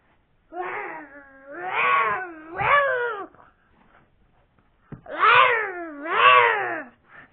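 A cat meows and caterwauls in long, wavering, drawn-out cries, two in the first half and two more after a short pause, loud and close.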